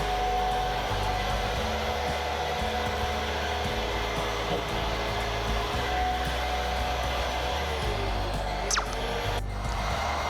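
A power saw cuts through a metal wall stud during a cargo trailer camper conversion, giving a steady, loud, whining drone with a tonal hum that runs continuously and without any talking.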